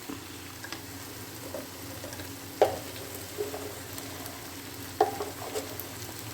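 Thrissur-style beef frying in a pan as it is stirred, a steady sizzle running underneath with occasional louder scrapes of the spoon against the pan.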